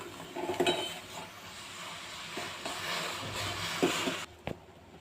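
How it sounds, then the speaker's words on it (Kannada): Masala chai water with spices and sugar boiling in a pot on a medium gas flame, giving a soft steady bubbling hiss with a few light metallic clinks from the pan. "ಈಗ ಇದನ್ನು ಒಂದು ಮೀಡಿಯಮ್ ಫ್ಲೇಮಲ್ಲಿ ಒಂದು 2-3 ನಿಮಿಷ ಕುದಿಸ್ಕೊಳ್ಳಿ"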